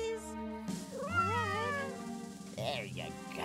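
A cartoon cat meows in long, wavering, sing-song cries, fairly loud and close, set against steady background music with a voice speaking briefly.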